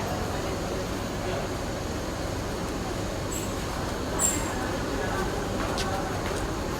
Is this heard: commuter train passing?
yes